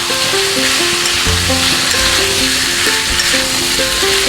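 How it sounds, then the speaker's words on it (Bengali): Potatoes tipped into a hot pan of oil with ground cumin paste for a Bengali aloo dum, frying with a loud, steady sizzle and repeated scraping stirs. "এইবারে আমি আলুগুলোকে দিয়ে দেবো দিয়ে ভালো করে নাড়বো"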